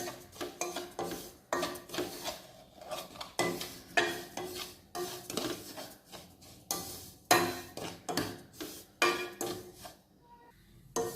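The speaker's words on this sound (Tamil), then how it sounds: "அதை போட்டு வதக்கிக்கணும் மீதி நெய்யில்" Broken wheat being sautéed in ghee in a pan for wheat kesari, rhythmic scraping and rasping strokes of a spoon repeating steadily over a faint sizzle, close and clear with no talking.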